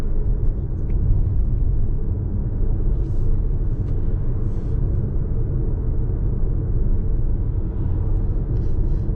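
Steady low road and engine drone inside a moving Audi Q3 cruising at about 50 km/h, a constant cabin rumble with a few faint higher ticks and rattles and no speech.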